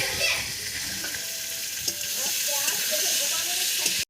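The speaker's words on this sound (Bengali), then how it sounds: "আজকে দুপুরের মেনু হচ্ছে আমাদের মাছ সেই কালকের স্টাইলে উনুনে দেশি স্টাইলে রান্না হচ্ছে" Fish cooking over a traditional clay stove, giving a steady close hiss and sizzle of frying throughout, with a few faint clinks mixed in.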